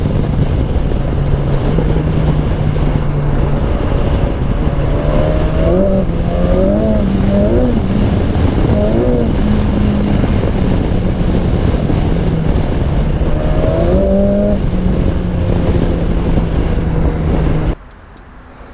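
A BMW S1000XR motorcycle roars loudly and close while riding, its engine note rising and dipping as the throttle is worked, then dropping away abruptly as the throttle is cut.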